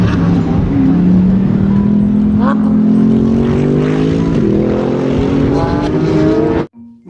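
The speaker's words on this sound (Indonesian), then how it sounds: "Mobil balap Lamborghini teman-teman." A toy Lamborghini race car plays a loud, close electronic engine effect, a sustained whine that slowly climbs in pitch before stopping abruptly.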